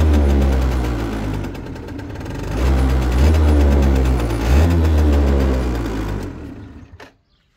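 A Yamaha Aerox scooter engine, just fitted back together after carburettor removal, runs at a close, loud, buzzing idle with a couple of throttle swells, then cuts off abruptly near the end.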